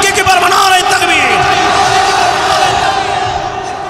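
A crowd roars a takbir chant in unison at an Islamic religious gathering, loud massed voices shouting together throughout and tapering slightly at the end.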